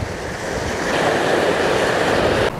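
Sea waves break and wash around a large round boulder on the New Zealand coast at Honeycomb Rock, a loud, continuous rushing surf roar close by, with no voices.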